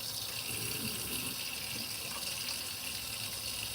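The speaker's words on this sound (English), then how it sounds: "I fill the water up" Tap water running steadily into a coffee pot, a continuous close hiss and splash with no voices over it.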